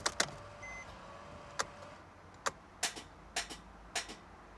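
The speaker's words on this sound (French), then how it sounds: "C'est le démarreur là qu'on entend." Mercedes E63 AMG V8 with a faulty starter connection, the starter motor clicking and ticking in a series of sharp, isolated snaps over a quiet background, without the engine catching.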